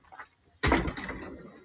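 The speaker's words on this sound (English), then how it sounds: "they have a sliding door here" A sliding door on a rare vintage English postal delivery van rolls and thumps shut in one loud, close burst, then a short rattling tail that fades away.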